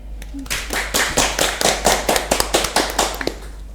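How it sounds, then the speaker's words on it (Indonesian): Several people clap hands in a short, uneven burst of sharp, close claps, loosely rhythmic and fading toward the end, with a low steady hum underneath. "Kita tepuk tangan dulu."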